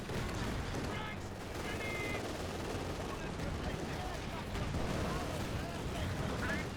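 Company of Heroes 2 battle: steady, dense gunfire and artillery rumble with bursts of machine-gun fire and explosions. Game voice lines can be heard over the din.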